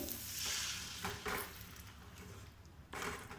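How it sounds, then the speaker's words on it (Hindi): Boiled bottle gourd sizzling and frying in a pan, with stirring scrapes coming in bursts; steady crackle throughout, no talking. "इसको हम अच्छी तरीके से हल्का सा फ्राई करते हैं।"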